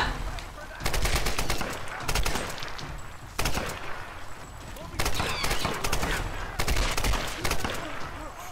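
Rapid bursts of automatic rifle fire in the Tomb Raider video game, loud close volleys in short repeated pulses with brief gaps, while people talk over the shooting.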